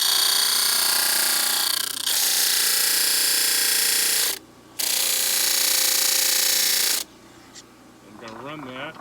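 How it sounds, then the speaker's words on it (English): Loud, bright whirring hiss of a disc sander with a 45 degree fence grinding wood, running in long sustained bursts with a short gap, then cutting off as it winds down and a voice speaks briefly. "I've got a disc sander with a 45 fence."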